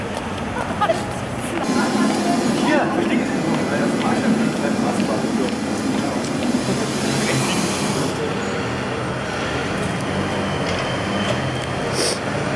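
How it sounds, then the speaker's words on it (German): Tram rolling past on a busy East Berlin street the night the Wall fell, a steady close rumble and rattle mixed with crowd noise and people talking throughout. "Eine Straßenbahn."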